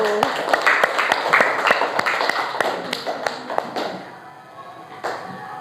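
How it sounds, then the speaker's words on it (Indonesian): Classroom applause for a student named Andini: a burst of scattered hand claps from a group of pupils, uneven and fairly close, thinning out toward the end with a final lone clap. "tepuk tangan untuk Andini"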